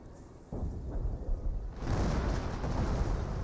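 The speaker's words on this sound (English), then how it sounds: "Another booby trap's been triggered." Booby trap explosion in the World War II strategy game Company of Heroes, a sudden low boom that rolls into a sustained rumbling blast with dense noise, loud and without speech.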